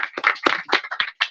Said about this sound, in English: And then another round of applause for Clarissa Zubia,